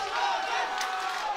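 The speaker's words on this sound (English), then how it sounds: "crowd is going nuts" Arena crowd at an MMA bout roaring steadily and loudly throughout, a dense sustained wall of cheering and shouting with no individual voices standing out.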